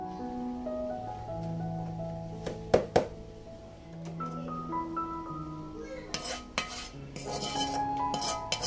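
A spoon works hot sugar syrup into a laddu mixture in a metal vessel, with scattered clinks and scraping taps, close and moderately quiet, over a steady tonal background hum.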